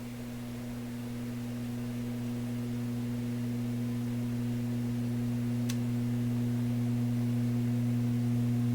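A steady low electrical hum from a vintage Loewe Opta Type 5966 tube radio drones continuously, slowly growing a little louder, with faint hiss and one brief click partway through.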